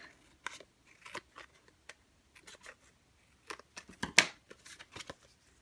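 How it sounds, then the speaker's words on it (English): Scissors snip through material being trimmed to size, a series of short crisp cuts at close range, quiet and spaced unevenly with brief pauses between them. "to cut that off"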